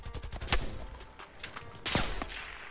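Type 63 rifle fire in the Black Ops Cold War video game: short sharp shots, a few rapid cracks early and another burst later, over a busy game-battle background.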